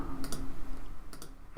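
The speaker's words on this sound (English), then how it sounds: "You've got a right mouse click to paste here." A computer mouse clicks during work in LightWave 3D software: two quick double clicks, soft and close, against a quiet room.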